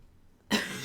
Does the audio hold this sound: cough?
yes